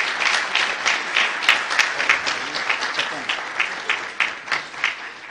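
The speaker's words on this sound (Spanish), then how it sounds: "Un fuerte aplauso, por favor, para Neil" A crowd at a silver anniversary celebration gives a round of applause, dense clapping with a few sharp individual claps standing out, gradually thinning toward the end.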